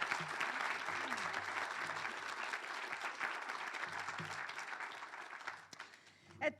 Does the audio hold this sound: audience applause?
yes